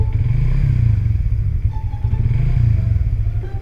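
A Rusi Raider 150 Fi motorcycle with a stage 1 upgrade idles close by as the throttle is eased down, giving a steady low, throbbing engine rumble with faint mechanical clatter.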